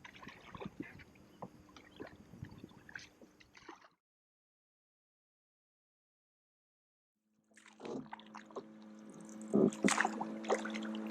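An old two-stroke engine on a small boat putters and chugs nearby, cutting out into silence for a few seconds before sputtering back, rougher and louder.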